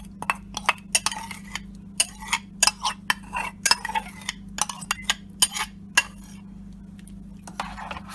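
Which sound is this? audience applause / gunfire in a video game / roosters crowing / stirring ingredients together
stirring ingredients together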